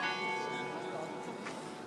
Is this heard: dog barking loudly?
no